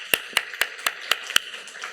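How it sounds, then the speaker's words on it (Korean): Clapping in a Korean church during a Sunday sermon, heard as about six sharp, evenly spaced claps in quick succession, near and fairly crisp. "박수 쳐봐"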